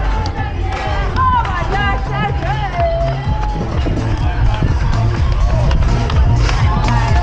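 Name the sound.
crowd of supporters cheering at half marathon finish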